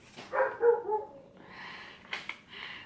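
A dog barks and whimpers a few times close by in a quiet room, with short, irregular bursts and soft pauses between them.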